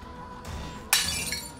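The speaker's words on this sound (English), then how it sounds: "Why did it sound like breaking glass?" Sharp glass shattering effect in an audio drama, a sudden bright crash after a low rumbling gust, followed by a tinkling, fading tail of falling shards.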